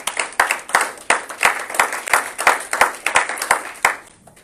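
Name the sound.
congregation applauding in church service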